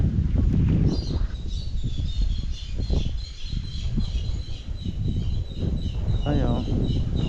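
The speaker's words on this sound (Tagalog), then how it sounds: "Mga huni ng ibon. Sarap pakinggan" Birds call and chirp among trees at an outdoor camp, thin high calls repeating over steady rustling background noise and low bumps, with a brighter trilling call near the end.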